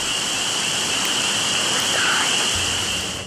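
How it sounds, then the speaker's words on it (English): Soft, steady rain hissing evenly throughout at night outdoors, a dense wash of drops with no clear individual hits and a faint low rumble near the end. "A soft rain falls"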